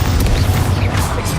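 A Bombarda blasting spell explodes in the Hogwarts Legacy video game, a loud, dense burst of crashing game impact noise running through the whole short moment.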